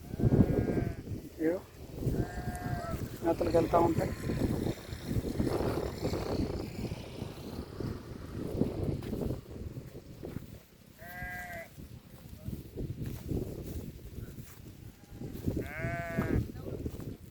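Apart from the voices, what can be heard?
sheep bleating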